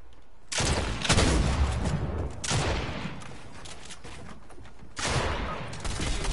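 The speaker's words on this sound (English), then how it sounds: "someone's shooting at me" Heavy, dense gunfire rolls in waves from someone shooting at the player in a video game, loud bursts separated by brief lulls of continued rattling.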